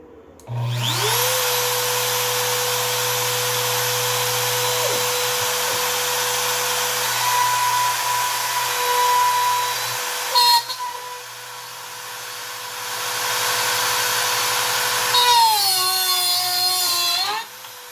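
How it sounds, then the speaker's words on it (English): Makita 1.25 hp router used as the spindle on a 3020 CNC router, a loud steady high-pitched whine that spins up, runs continuously while cutting, and shifts pitch briefly near the middle and end. "I should just be able to turn the router on and hit go."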